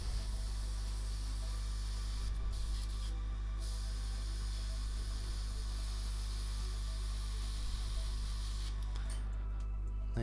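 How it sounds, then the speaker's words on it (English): Aerosol spray primer hisses in a steady continuous stream over a Star Wars miniature, a constant near hiss with brief pauses as the can is repositioned. "So I'm not going to spray from underneath, I'm just going to let the black underneath be the shadow on the craft."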